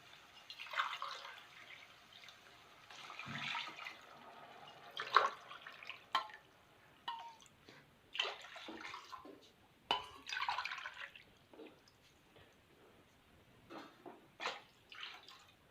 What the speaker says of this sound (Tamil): இப்போது தண்ணி இதில் ஆட் பண்ணிடலாம்.